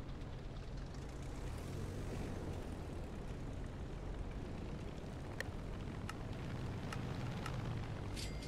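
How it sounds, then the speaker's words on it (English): Continuous broad rumbling drone of an airplane in the video game Navy Simulator, steady and moderately loud, with a few faint sharp clicks near the end. "I'm gonna guess that's my plane."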